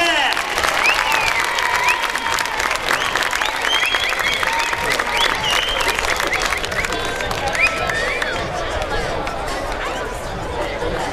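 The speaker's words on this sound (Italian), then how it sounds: "Vogliamo fare un applauso al pubblico di Francavilla" An audience at a boxing night in Francavilla applauds, dense sustained clapping with crowd chatter and occasional shouts throughout.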